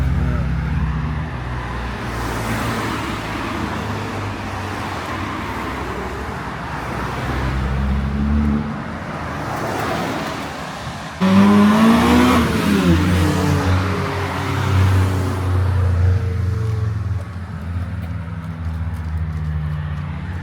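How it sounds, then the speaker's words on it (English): Cars with loud exhausts speed through a town centre near the Nürburgring, engines rising to a roaring pass-by midway and fading off, with a voice talking at moments. "you've got cars flying through the city center at insane speeds with very loud exhausts"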